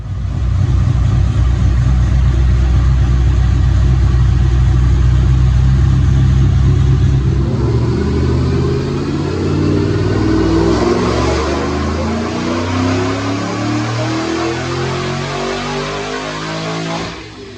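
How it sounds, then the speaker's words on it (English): A supercharged 2008 Mustang GT with a 3-valve V8, Detroit Rocker cams and an Edelbrock supercharger roars through a dyno pull, a loud deep rumble that rises steadily in pitch as it revs up, with no talking. "So check out this dyno pull."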